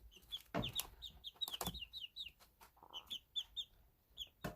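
A small backyard flock of adolescent chickens, including a silkie, clucks and peeps: bursts of high chirping cheeps and soft clucks overlap in a busy, irregular chatter, fairly close and moderate in level, with no talking.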